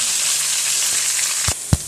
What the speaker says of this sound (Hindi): इनको हम इसके अंदर हल्का सा फ्राई करेंगे।